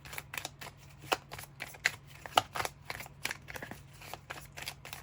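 Tarot cards shuffled by hand in a quiet room, a rapid series of crisp riffling snaps and soft slides repeating close to the microphone with no talk, over a faint steady low hum.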